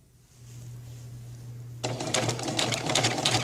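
A sewing machine stitches a suit coat, starting with a low motor hum and then breaking into a fast, even run of close mechanical clatter for the last half of the clip, with no talking.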